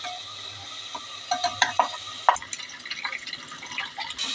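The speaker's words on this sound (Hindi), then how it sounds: "दाल को भून लेते हैं" Dal roasts in a pan for a kitchari: soft, irregular clicks and light scrapes from stirring sit over a faint background sizzle, with a few sharper taps scattered through the stretch.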